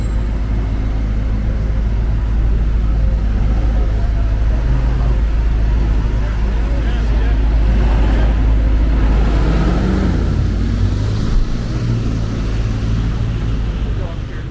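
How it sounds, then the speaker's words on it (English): Steady city road traffic rumbles along Wellington Street in downtown Toronto, a loud low-frequency drone of passing cars and heavier vehicles with a swelling pass-by near the middle and faint voices mixed in. "There's quite a bit of traffic east of Yonge Street on Wellington Street"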